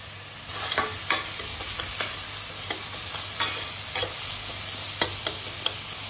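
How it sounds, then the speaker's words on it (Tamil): Ginger garlic paste stirred into chicken curry in a pan, a soft low sizzle under repeated sharp scraping strokes of a spoon at an uneven rhythm, close and moderately quiet. "இஞ்சி பூண்டு பேஸ்ட்டு போட்டுக்கலாம். நல்லா கலக்கிக்கலாம்."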